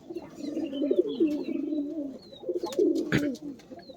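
Pigeons of an Anari line, a flying breed, cooing in soft, repeated, low rolling calls, close and continuous, with faint chirps and background noises over the top.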